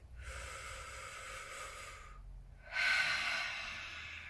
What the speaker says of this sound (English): Nice deep belly breath